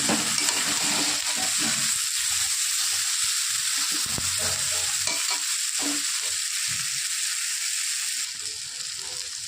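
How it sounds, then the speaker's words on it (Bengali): Water lily stems (shapla) frying in a pan, a continuous close sizzle broken by repeated stirring scrapes and taps of a spatula, with the frying easing slightly near the end. "শাপলা ভাজা প্রায় আমার হয়ে এসছে, আর কিছুক্ষণ নাড়িয়ে চাড়িয়ে নামিয়ে নেব"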